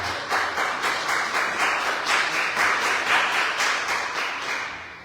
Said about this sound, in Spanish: ¿Cuántos le damos un aplauso al Señor por amor?